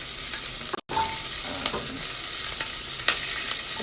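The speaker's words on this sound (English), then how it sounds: "now I'm going to throw in, without burning myself, the onion" Chopped onion lands in a hot pan of fat and crackles into a loud, steady sizzle after a brief drop-out, with faint stirring ticks on top.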